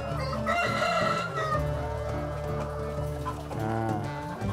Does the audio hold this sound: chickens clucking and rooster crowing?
yes